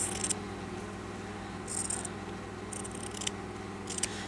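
Scissors snip through fabric for a stitchery project, giving several short, crisp cuts spread out over a few seconds against a low room hum.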